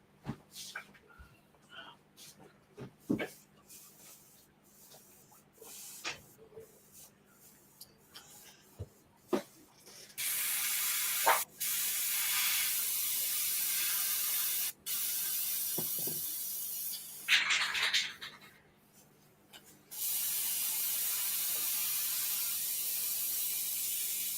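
Sealer hisses from a spray gun in a paint shop in long continuous bursts with short breaks between them, after a stretch of scattered clicks and handling noises.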